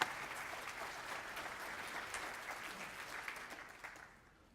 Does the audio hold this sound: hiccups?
no